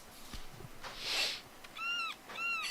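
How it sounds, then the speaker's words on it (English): Loud seagull cries in the virtual world game Second Life: a few bright, wavering squawks in quick succession near the end, over faint ambient noise. "that is one loud seagull"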